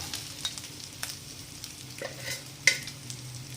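Fried egg fritters being stirred and tossed in a pan, with soft scraping strokes over a low sizzle, close and moderately quiet, without talking.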